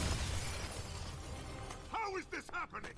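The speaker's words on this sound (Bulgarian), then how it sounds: "му щупих стъклото" Glass shattering in a Spider-Man video game, a loud crash over busy game noise, followed by someone talking excitedly.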